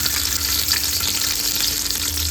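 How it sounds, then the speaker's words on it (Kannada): Chopped onions fry in hot oil for a village-style fish curry, a steady, close, loud sizzle and crackle with faint stirring, no voices. "ಎಣ್ಣೆ ಹಾಕೊಂಡ್ಮೇಲೆ ಅವಾಗ ಸ್ವಲ್ಪ ಈರುಳ್ಳಿ ಕಟ್ ಮಾಡಿ ಮಡಿಕೊಂಡಿದ್ದೆ, ಹಾಕ್ತಾಯಿದ್ದೀನಿ"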